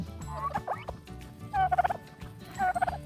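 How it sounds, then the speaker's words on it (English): Pet male turkeys gobble outside by a chicken coop, giving three close, rapid warbling bursts over background clucking and rustling, with no talking. "I have 4 turkeys."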